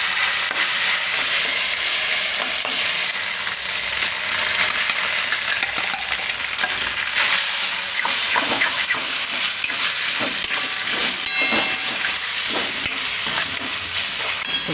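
Soya vadi crumble hits a hot frying pan with cumin and asafoetida and is stirred. A loud, continuous close sizzle runs throughout, with scraping stir strokes and no voices.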